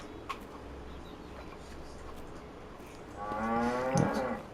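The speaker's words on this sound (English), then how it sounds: "quick check on the moo cows, see what the situation is with them" A cow in the video game Farming Simulator 25 gives one clear, drawn-out moo near the end, after a few seconds of quiet farmyard ambience.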